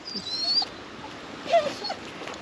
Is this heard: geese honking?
no